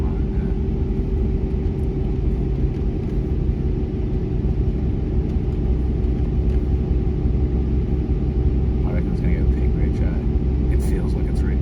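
Ford BA Falcon engine under load on a dynamometer during a tuning run, a loud sustained low rumble that holds steady throughout the run, with faint higher-pitched sounds near the end.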